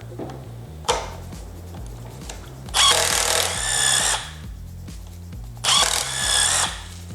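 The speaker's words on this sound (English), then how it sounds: "now we're going to switch to a 1/4 inch drill" A 1/4 inch power drill boring holes while fitting quick flip mirror mounts to KTM factory handguards, with two loud bursts of high-speed drilling separated by quieter pauses and a steady low hum throughout.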